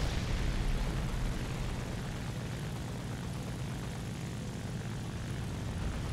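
A propeller plane engine in the War Thunder video game drones steadily for several seconds, a low, even roar with no talk over it.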